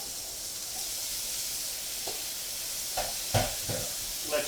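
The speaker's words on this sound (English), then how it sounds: "Oh yeah, that sizzle, baby. That's what we're looking for here." Shrimp fry in hot oil in a pan, giving a steady, soft hiss with a few brief louder crackles and stirring scrapes toward the end.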